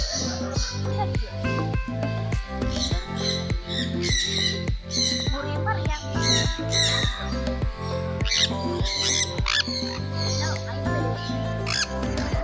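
Parrots at an exotic birds park squawk repeatedly while climbing over a visitor and pecking at his pocket and buttons. The calls are close and come in a rapid, uneven series, with talk in the background.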